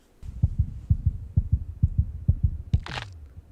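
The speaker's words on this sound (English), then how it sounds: "I love how you can hear like the two different heartbeats here." Steady, regular heartbeats thump low and close, a soft pulsing rhythm, ending with a sudden sharp snap-like burst.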